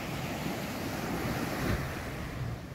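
Pacific surf at Chacala Beach on Mexico's Nayarit coast, a continuous broad wash of waves with wind buffeting the microphone, steady and moderately loud with no voices.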